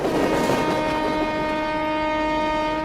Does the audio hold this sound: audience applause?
no